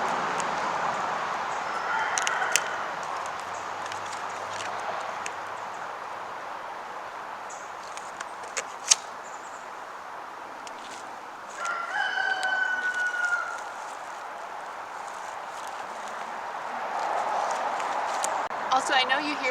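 A neighbour's rooster crows faintly in the distance, a brief harmonic call rising around the middle, while a gardener talks steadily in the foreground during outdoor planting.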